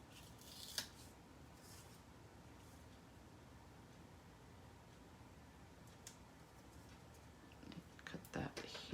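Scissors snipping through cardstock while making a shaker card, faint close crunching cuts near the start and a cluster of snips near the end, under low room noise.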